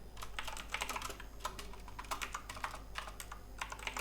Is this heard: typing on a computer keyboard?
yes